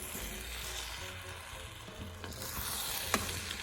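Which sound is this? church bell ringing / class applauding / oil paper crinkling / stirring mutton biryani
stirring mutton biryani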